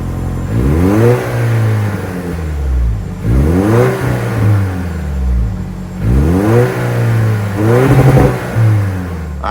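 The 2.4-liter turbocharged four-cylinder engine of a 2024 Toyota Tacoma TRD Sport revs four times in succession, each rev climbing and falling back, close and loud with no talk.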